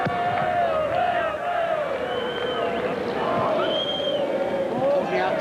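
A large stadium crowd roars steadily at an Australia versus New Zealand football World Cup qualifier, a sustained, distant wash of voices with rising swells, under a commentator's voice.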